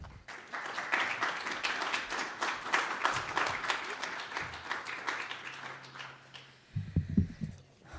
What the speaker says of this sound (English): let's give a round of applause for our speaker, Eleesha Tucker